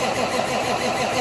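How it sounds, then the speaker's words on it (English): A 1995 cabover Freightliner truck engine being turned over by its starter, giving a steady, loud, grinding churn with a low pulsing beat throughout, with no voices. "So we're gonna crank her a while here and off and on so we don't overheat the starter."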